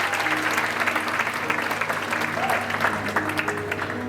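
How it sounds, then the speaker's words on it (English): Graduation ceremony crowd clapping for an honoured student, a steady wash of many hands at moderate distance with no talking over it. "Another round of applause for her,"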